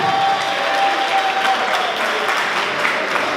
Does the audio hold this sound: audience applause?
yes